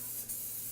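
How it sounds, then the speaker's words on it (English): Coconut oil cooking spray hisses onto a muffin pan in one short, steady, soft burst, close by and with no talk over it. "all I'm going to do now with our coconut oil spray"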